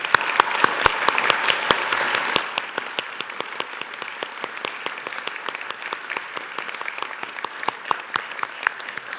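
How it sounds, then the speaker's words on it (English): A graduation ceremony audience at the University of Newcastle in Australia applauds: dense, loud clapping for the first couple of seconds that thins into scattered, sharper individual claps continuing steadily to the end. "Please join me in applauding the wonderful achievements of our graduates."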